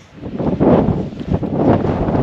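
Strong gusts of high wind buffet the microphone on an exposed Peak District walk, a loud, continuous roar that swells and eases in waves with no voices.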